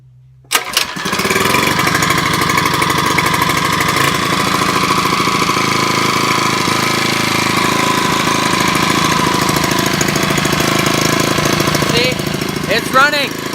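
Small gasoline engine pulled to start, catching after a moment and then running loud and continuous with a rough, knocking rhythm, with a voice talking over it near the end.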